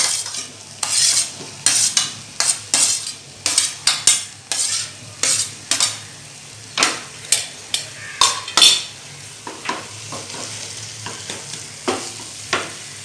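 Mashed boiled potatoes are stirred in a frying pan with a metal utensil, giving about two dozen loud, scraping strokes in an irregular rhythm over a soft sizzle, with no talking.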